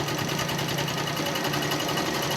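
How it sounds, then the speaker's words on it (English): Sewing machine stitching along the edge of a tied quilt, a fast steady mechanical whir with rapid needle rhythm, close and continuous throughout. "I'm sewing right on the edge to give me a stitch that is right on the edge"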